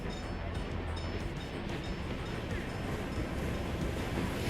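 A steam train in the video game MegaCity 19 rumbles steadily, a dense continuous rolling roar with faint rhythmic clatter and no break across the whole stretch.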